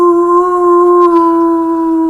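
A person imitates a wolf, letting out a sustained, steady howl held close to the listener, loud and alone for the whole stretch.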